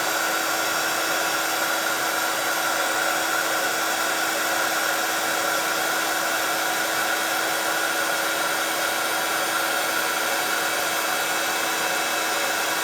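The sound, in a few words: heat gun running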